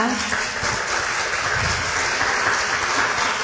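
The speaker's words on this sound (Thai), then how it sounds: "ขอเสียงปรบมือด้วยนะคะ" Audience applause at a book launch fills the room with steady, dense clapping from a sizable crowd, with some talk mixed in beneath.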